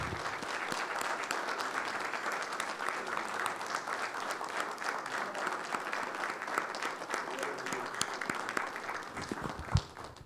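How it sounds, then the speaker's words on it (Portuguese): A church congregation claps and cheers together for the Lord, a continuous, lively wash of applause lasting the whole ten seconds at moderate volume. "Vamos aplaudir ao Senhor."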